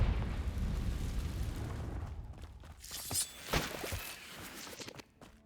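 A Confringo fire spell from Hogwarts Legacy erupts in a burst of crackling, booming explosion noise, followed by sharp impacts and scattered debris-like hits that fade near the end.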